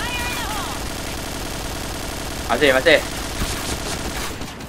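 Gunfire in the PUBG video game: a quick volley of shots cracks out in the middle over continuous game background noise, with someone talking briefly.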